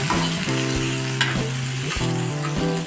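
Tomatoes sauté in a pan for street-style kothu parotta, a loud continuous sizzle right up close, broken by a few stirring scrapes and knocks, with no speech.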